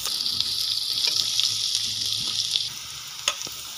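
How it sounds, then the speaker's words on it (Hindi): Onions sizzle and fry in hot ghee in a pan, a steady close crackle with a few brief clinks partway through. "अब घी के अंदर प्याज डालें"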